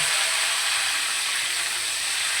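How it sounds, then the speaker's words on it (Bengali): Cauliflower pieces frying in hot oil give a steady, loud, even sizzle with a broad hiss that runs unbroken throughout, with no voices. "এবার আমি এই তেলের মধ্যে ফুলকপিগুলোকে একটু ভেজে তুলে নেবো হালকা করে"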